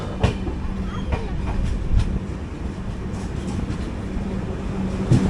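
The Mangala Lakshadweep Express rolls into Udupi station on the Konkan Railway, its wheels clacking over rail joints in a steady rumble with occasional sharp clanks and faint squeals, heard from on board.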